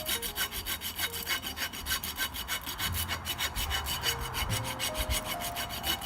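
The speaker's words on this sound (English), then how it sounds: "Keep the file straight, and then not so straight, in an angle." A steel rasp is drawn over a horse's hoof during a trim, with steady, rhythmic back-and-forth scraping strokes, close and continuous, no talk.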